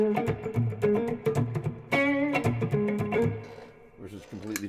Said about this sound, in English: too much reverb, it gets in the way of the subdivisions